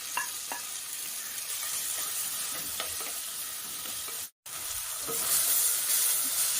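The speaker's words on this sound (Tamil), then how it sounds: "அடுத்து 3 தக்காளி கட் பண்ணது இங்கே போட்டு வதக்கிக்குவோம்." Chopped onion and tomatoes sautéing in a pan for a South Indian kulambu, a steady close sizzle with occasional stirring scrapes, broken by one very short silent gap.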